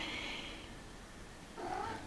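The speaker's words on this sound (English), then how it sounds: "Oh, Kitty's back" A cat meows twice nearby, a drawn-out cry at the start and a shorter one near the end, in a quiet room where scrapbooking is underway.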